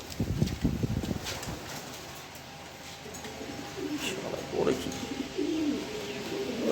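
Soft, low cooing of a male pigeon repeats in short throaty phrases, fairly close, over a faint background with a few distant chirps.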